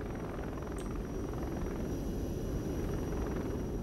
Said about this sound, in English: We cannot lose our helicopter.